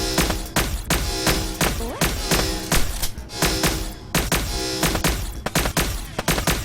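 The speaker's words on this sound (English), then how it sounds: "The turret enemy fires at the player at set intervals." An enemy turret in the VR shooter Firewall fires at the player in rapid, sharp bursts of gunfire, repeating in clusters at fairly regular intervals, loud and close.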